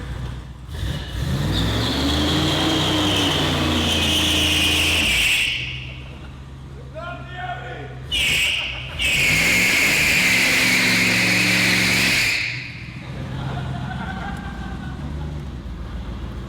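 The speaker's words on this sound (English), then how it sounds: "Burnout, Al, burnout, right here." A pickup truck with a Cummins diesel revving hard during a burnout, the engine roaring in long sustained bursts with a brief drop between them, loud and close, with a voice heard faintly.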